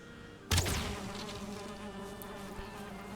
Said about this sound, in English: Just grab this beehive quickly